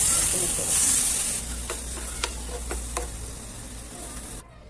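Milk poured into a pan to make white sauce for chicken pasta, with a loud steady sizzle and hiss that eases partway through, a few faint clicks of stirring, then a sudden stop.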